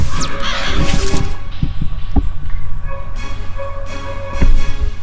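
A crow spell effect in a video game, crow caws and flapping bursts mixed with thumping hits and low throbbing game sounds, loud and busy, without talk.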